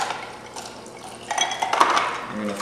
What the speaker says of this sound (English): I'm going to fill that up.